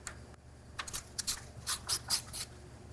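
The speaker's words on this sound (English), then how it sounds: "we'll loosen off our tensioning sprocket with our T50 Torx bit" A T50 Torx bit loosening the tensioning sprocket on a MacDon C or FC Series corn header auger chain, producing a series of short, bright ratcheting clicks and scrapes in quick irregular bursts, close and fairly quiet.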